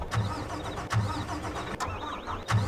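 A truck engine starts and settles into a steady idle in a farming simulator game, with low, rhythmic chugging pulses and no talking.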